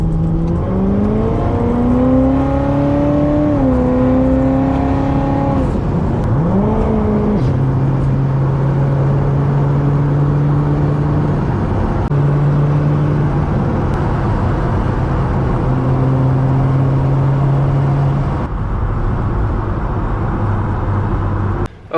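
A Corvette fitted with new Wilwood brake pads and rotors drones steadily at highway cruising speed, with a continuous engine hum that shifts pitch through a few gear or throttle changes over road and wind noise.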